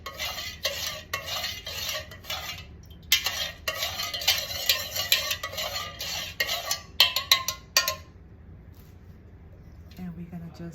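A utensil stirs red dye into candle wax in a container, making a run of quick scraping and clinking strokes in bursts that stop after about eight seconds, leaving quiet room tone with a low hum.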